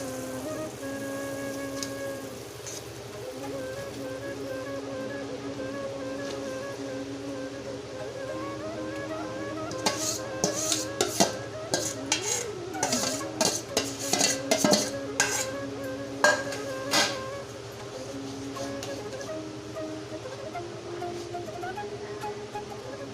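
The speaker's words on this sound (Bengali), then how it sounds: "আমটাকে ভালো করে চিনির রসের সাথে মিশিয়ে মিশিয়ে দিতে হবে" Mango pieces are stirred into a sugar syrup with fennel in a pot, with a faint simmer under a steady background hum, then a run of soft scraping and knocking spoon strokes through the middle stretch.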